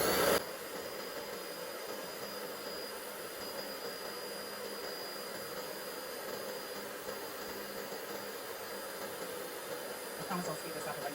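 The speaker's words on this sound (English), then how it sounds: "I'm literally just going to turn on my blow dryer" A blow dryer blows steadily at the fingernails to dry freshly stamped nail polish, a continuous close airy whoosh after a brief louder start, holding even to the end.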